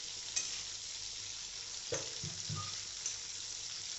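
Prawns fry in oil in a home kitchen pan, giving a constant soft sizzle with a few stirring scrapes and clinks over it, close and fairly quiet, with no talking.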